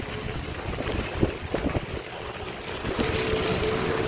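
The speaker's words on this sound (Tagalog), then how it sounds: "Lakas ng hangin." Strong wind outdoors at a waterside spot in the evening, a continuous broadband rush buffeting the microphone, with brief thumps and faint tonal hints beneath.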